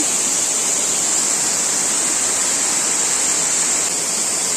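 A waterfall in a forest roars in a loud, steady, unbroken rush of falling water, close by, with no other sounds.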